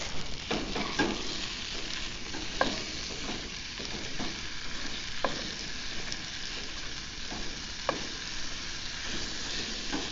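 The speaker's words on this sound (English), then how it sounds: "And now I'm going to add the hamburger." Ground beef (hamburger) with onions sizzles steadily in a pan while cooking at camp for a cheesy beef stroganoff, with sharp spatula scrapes and stirring clicks breaking through the constant frying hiss.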